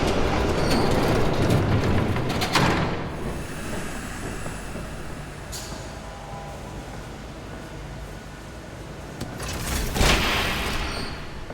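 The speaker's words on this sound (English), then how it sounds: "There's a train coming. Take cover." A train rushes past in the Batman: The Telltale Series video game, a loud sustained roar and rumble with rattling wagons that swells near the start, eases through the middle and surges again near the end.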